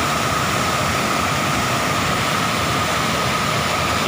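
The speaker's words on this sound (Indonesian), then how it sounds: "Ini airnya deras sekali guys." Loud, steady roar of rushing river water pouring through a floodgate outlet, a dense unbroken wash close by with no voices.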